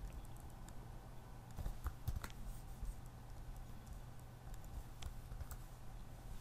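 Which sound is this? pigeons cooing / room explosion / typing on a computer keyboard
typing on a computer keyboard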